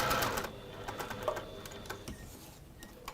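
A sewing machine stitches a small square of fabric to hold a fold in place, giving a brief burst of rapid, close mechanical clatter that fades into quieter handling noise.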